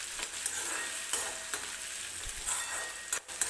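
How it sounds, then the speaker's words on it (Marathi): Tomatoes frying in a pan while Maggi noodles are made: a steady, close hiss and sizzle with occasional soft stirring scrapes, no voices. "हे बघा, टोमॅटो पण भाजतोय आपला."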